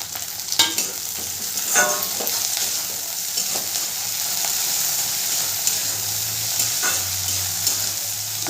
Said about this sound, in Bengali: কারি পাতাটা দিয়েও ভালো করে ভাজা ভাজা করব